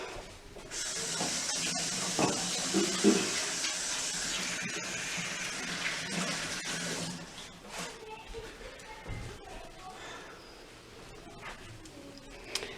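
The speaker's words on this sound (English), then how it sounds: "Now move this, wash my hands." Hands are washed under running tap water, a steady hissing splash that lasts several seconds and then thins into scattered drips and rustles. A voice talks over it.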